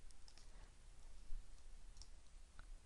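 Computer mouse clicks while working in software: several faint, sharp clicks scattered over a quiet hiss, with no talk.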